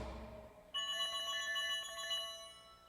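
An electronic telephone ringtone on a comedy podcast cuts in suddenly after a faint lead-in and plays a bright, repeating melodic trill for about two seconds, clear and without talk over it.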